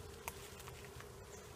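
Honeybees at an open hive while a box is added: a continuous low buzzing hum with faint scattered wingbeat passes, close and steady.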